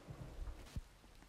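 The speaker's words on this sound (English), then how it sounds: "We just got the rain." Rain weather falling in the Roblox game Adopt Me, a steady soft patter with a low thunder-like rumble and a brief thump, no talking.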